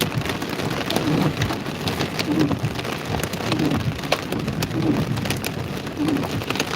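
Hail and rain strike a storm-chasing vehicle during a Central Texas thunderstorm, a loud, continuous patter with scattered sharper ticks and faint low rumbles throughout.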